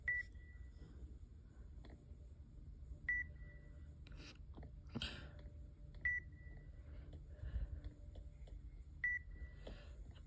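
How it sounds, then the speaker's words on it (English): Tracker beeping in the Roblox game Bigfoot, short electronic beeps repeating roughly every three seconds at a steady, unhurried pace over a low rumbling game background. "If it beeps very fast, then Bigfoot's close."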